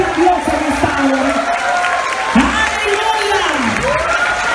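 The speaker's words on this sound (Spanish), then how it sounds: "Dale un aplauso fuerte a Dios en esta hora." A church congregation in Honduras claps loudly and steadily, mixed with cheering and whoops, while a voice shouts and vocalizes over the crowd throughout.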